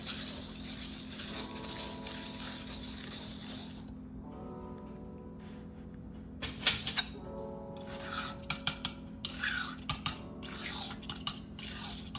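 A palette knife scraping and grinding gemstone or historic pigment clumps on a slab while watercolor paint is being made, with gritty rasping strokes and sharper taps toward the end over a steady low hum.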